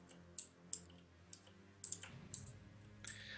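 Computer keyboard keystrokes heard faintly in the background, sparse irregular clicks and taps spread over a few seconds with a low steady hum underneath.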